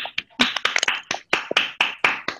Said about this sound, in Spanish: Y pues ya los que quedamos, un aplauso, por favor